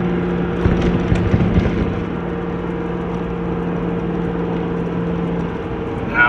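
Steady interior drone of a car cruising on a highway road trip through California, an even low engine hum and road noise with faint whir, no talk.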